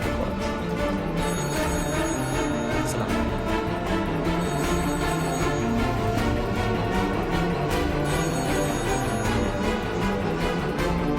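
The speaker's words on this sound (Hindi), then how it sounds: "अकबर के कैबिन का फोन लगातार बज रहा है।" A telephone in an office cabin rings on and on, loud and continuous with a repeating electronic bell pattern, mixed with dense background sound and no talking.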